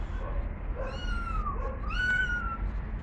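A young child of three to five imitates a cat, giving two rising-and-falling meows one after the other, close and fairly soft, with no other voices.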